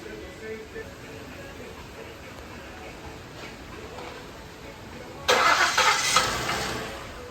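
A 2016 Ford Explorer 3.5 engine cranks and catches near the end after a water pump job, rising into a loud, steady running roar after a quieter stretch of background noise.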